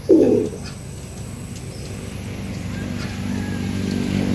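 A single short pigeon coo at the start, fairly close, followed by a steady low background rumble with no further calls.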